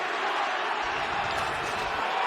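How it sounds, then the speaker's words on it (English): Sold-out arena crowd at a UFC fight roars steadily throughout, a dense, constant wash of voices and shouts with a low thump partway through. "Listen to this sold-out crowd."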